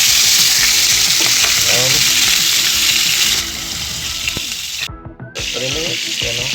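Duck breast sears in hot olive oil in a pan, giving a loud, steady sizzle and crackle that continues nearly throughout, briefly interrupted near the end, with someone speaking a word or two over it.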